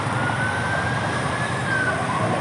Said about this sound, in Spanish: A la ambulancia, viene la policía también.